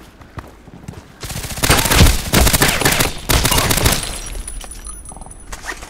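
Rapid bursts of in-game gunfire from Contract Wars, a deathmatch on the Bay 5 map, crackling loud and close in a dense volley that tapers into scattered single shots.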